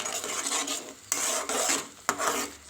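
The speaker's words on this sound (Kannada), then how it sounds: "ಇದನ್ನು ಚೆನ್ನಾಗಿ ಫ್ರೈ ಮಾಡ್ಕೊಬೇಕು" Schezwan sauce fried in oil in a pan and stirred, giving a continuous sizzle with scraping and clinking of a spoon against the pan, broken by sharp stirring strokes, with no voices.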